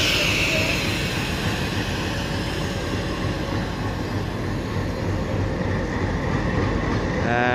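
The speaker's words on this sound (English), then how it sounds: "So here we are, and the loco is being prepared. The staff is working for coupling." A locomotive rumbles steadily at a station while being prepared and coupled, a continuous low engine drone with faint mechanical clatter and no talk.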